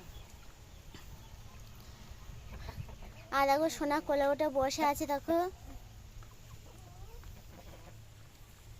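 A chicken gives a loud run of rhythmic clucks close by at a rural home in the rainy season. Quiet rustling comes before it, and someone talks softly around the clucking.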